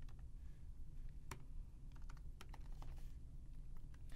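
Quiet, rapid keystrokes on a computer keyboard as code is entered, irregular clicks in short bursts with small pauses, close and soft, with no talking.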